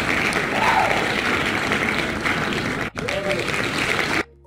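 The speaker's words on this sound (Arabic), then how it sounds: "ممكن نختار مثلا تصفيق عالي ممكن." Loud applause sound effect from an online lottery draw website, a dense continuous burst of clapping lasting several seconds, with a brief dropout near the end before it cuts off abruptly.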